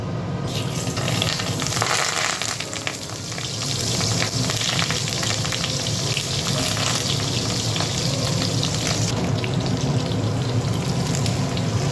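Prawn paturi parcels fry one by one in hot mustard oil, giving a loud, steady, crackling sizzle that fills the whole stretch with no talk over it.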